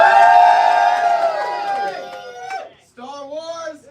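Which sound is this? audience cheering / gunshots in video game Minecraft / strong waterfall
audience cheering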